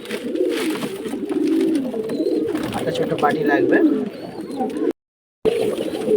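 Pigeons coo in low, throaty rolls close by, almost continuously, while a person speaks over them; a short silent gap near the end.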